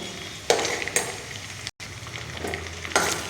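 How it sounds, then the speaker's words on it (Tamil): Green turkey berries (sundakkai), stemmed and washed, sauté in a pan with a constant sizzle and a few sharp stirring scrapes. "காம்பு நீக்கி வாஷ் பண்ணது கைப்பிடி அளவு சேர்த்தா போதும் இது சுருள்ற அளவு வதக்கணும்"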